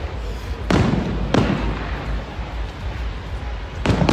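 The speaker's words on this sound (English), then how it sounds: "There's no fireworks going on, it's just explosions." New Year's Eve fireworks explode nearby over a rooftop, three loud booming bangs at uneven gaps over a steady rumbling background.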